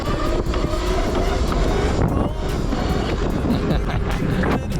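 A Razor MX650 electric dirt bike fitted with KTM 50SX motocross forks, ridden hard through a power wheelie, with a loud rough rumble of motor, chain and wind buffeting, close and continuous.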